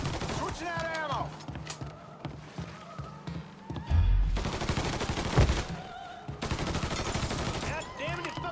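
Gunfire in the Mafia III video game, with several sharp shots and a heavier thudding burst near the middle, mixed under game sounds and someone talking throughout.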